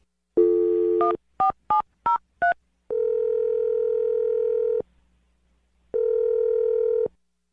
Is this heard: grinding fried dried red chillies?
no